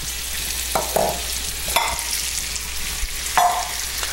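Eggs being whisked together until whites and yolks are fully combined, heard as a steady wet stirring and scraping with several sharper clinks of the utensil against the bowl, close and continuous.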